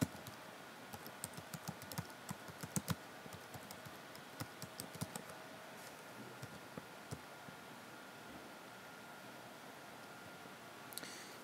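Someone typing an email address on a computer keyboard: quiet, close key clicks in quick irregular bursts, denser at first, then sparse taps and pauses before a last few strokes.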